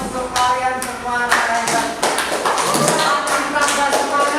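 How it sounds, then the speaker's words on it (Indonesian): A group in a children's class claps hands in a patterned rhythm of crisp, close claps, with singing or chanting voices running alongside. "Tepuk tangan untuk kalian semua."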